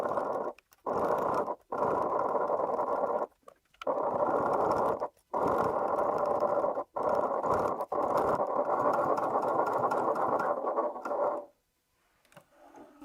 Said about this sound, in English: So I'm going to stitch using a 1/4 inch seam allowance